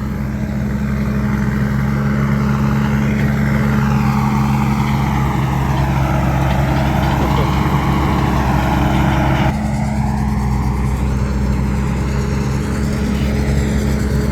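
A truck loaded with over three tons of corn, turning on dry soil, growls loudly with a steady heavy engine drone; the pitch of the engine strain rises and falls before easing into an even rumble.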